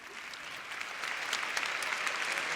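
Conference audience at Web Summit in Lisbon applauding pioneers during a keynote, a dense, steady round of clapping from a large crowd that builds slightly in strength, heard alone without speech.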